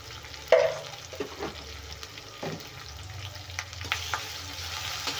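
Spices frying in a pan with salt and turmeric as they are stirred: a steady close sizzle with scraping strokes of a spoon at irregular intervals.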